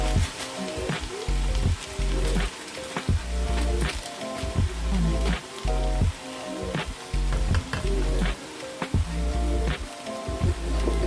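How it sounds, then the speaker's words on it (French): Seafood shells fry loudly in oil, a dense crackling sizzle with frequent sharp clatters as the shells are moved and stirred in the pan. "vous rajoutez les coquelles de fruits de mer dans l'huile"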